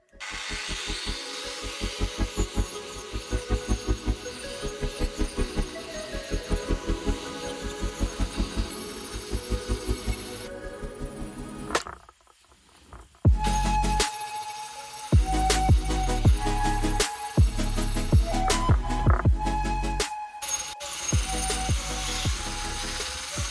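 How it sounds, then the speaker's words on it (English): A power carver grinds into a wooden table base salvaged from trash, rattling in a rapid rhythmic chatter, then pauses and restarts with a steadier, louder whine broken by short stops. "So what we are going to do is we're going to get some power carving done."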